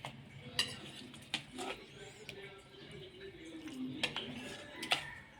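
Spoon clinks and scrapes against a plate as makki halwa, a cornmeal sweet, is served out, with a few sharp metallic taps spaced through steady low handling noise.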